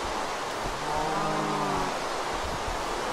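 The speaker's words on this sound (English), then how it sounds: "There's more pigs and cows." A single drawn-out cow moo from the Minecraft video game sounds clearly over a steady hiss of background noise.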